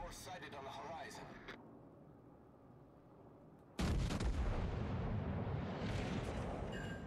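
A battleship's artillery salvo in World of Warships Legends erupts as a sudden heavy boom followed by a sustained roaring rumble, loud and close, after a quieter stretch where a voice speaks.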